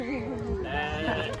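Goat bleating on a family farm, a wavering drawn-out call close by, lasting about a second amid soft background voices and bird chatter.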